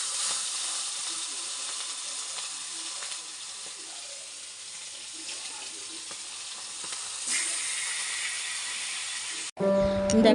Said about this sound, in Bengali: এখন আমি মাছের মাথাগুলো ভেজে নেব